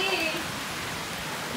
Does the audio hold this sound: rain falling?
yes